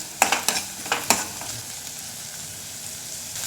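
Sweet corn kernels and peas being stirred in hot oil in a pan, a few quick scraping stirs at the start and then a steady soft sizzle carrying on alone.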